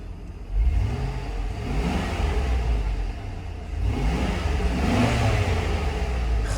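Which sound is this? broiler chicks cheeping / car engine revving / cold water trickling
car engine revving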